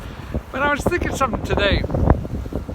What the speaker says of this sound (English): But it's windy as hell.